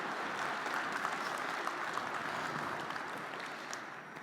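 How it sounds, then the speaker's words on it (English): Steady applause from a crowd, a dense even wash of clapping that holds for a few seconds without pause. "let's give her a big round of applause of encouragement as she comes right through here"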